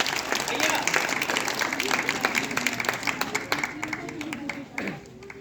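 Crowd applause welcoming a performer to an outdoor street play on AIDS awareness, a steady stretch of clapping that thins toward the end, with murmuring voices mixed in.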